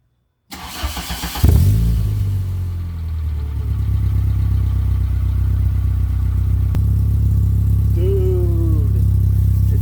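An MK2 Volkswagen Golf with an ABA engine and new exhaust cranks and starts, then settles into a deep, close idle with a brief rev near the end, and a voice is faintly heard.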